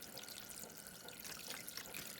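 Vinegar pours steadily into a container for soaking a rusty gate crest, a faint, continuous splashing hiss close by.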